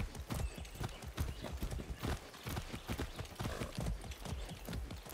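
A horse's hooves clip-clop in a quick, steady rhythm, close and fairly loud, in the video game Far Cry 6, with a faint whinny in the mix and no speech.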